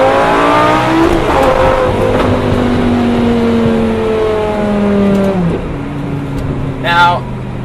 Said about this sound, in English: Just downshifts in this car. It's absolutely incredible.